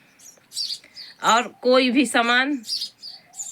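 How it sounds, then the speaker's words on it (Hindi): Small birds nesting around mud-walled village houses in summer twitter in short, high chirps scattered through the moment, while a person talks nearby, their voice louder than the birdsong. "देखो चिड़ियों की आवाज़ आपको सुनाई दे रही है"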